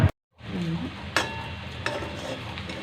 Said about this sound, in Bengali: এই যে আমাদের রাধুনি রান্না করছে চাউমিন